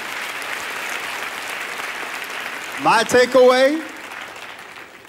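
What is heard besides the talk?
congregation hand clapping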